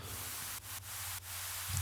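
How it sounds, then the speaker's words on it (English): A steady hiss of white noise like an exhaust blast, broken by a few brief dropouts, with a low hum underneath. "we just have this basic exhaust kind of sound, which I call an exhaust sound, and it's just basically white noise,"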